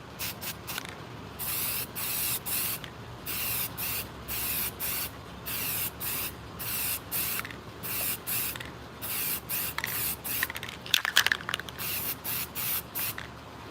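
Spray gun coating the bottom of a fishing rod with paint, rapid repeated short hissing bursts in a steady rhythm, close and crisp with brief pauses between each spray.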